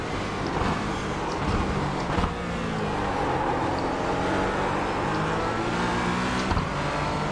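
A Porsche GT4 race car in iRacing, the sim racing game, drones steadily at high revs through a race lap. The engine tone sweeps up and down with gear changes and stays dense and continuous, with no voice.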